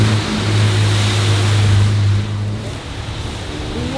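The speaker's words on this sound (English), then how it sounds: "This much water pooling on the freeway." Water rushes and sprays steadily as a car drives through deep water pooled on a flooded freeway, with a loud low engine drone in the first half that fades, leaving a broad, surf-like wash.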